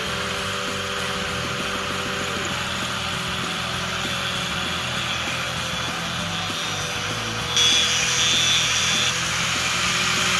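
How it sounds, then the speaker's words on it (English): An improvised bench grinder whirs steadily while it shapes a wooden handle for a mini sledgehammer, giving a continuous abrasive grinding drone that grows slightly louder and harsher near the end. "This here is what we call a redneck bench grinder."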